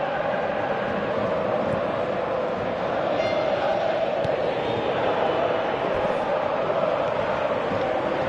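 A stadium crowd roars continuously in a PS4 football video game, a dense, steady wall of cheering with no clear breaks, staying loud throughout.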